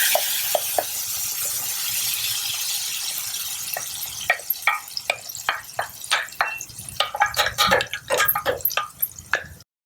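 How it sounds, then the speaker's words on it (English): A ground paste of tomatoes and tamarind goes into a hot pan with a steady sizzle, then scattered wet drips and spoon scrapes grow busier and louder through the second half, ending abruptly. "Add this ground paste of tomatoes, tamarind"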